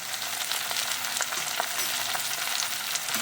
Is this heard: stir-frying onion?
yes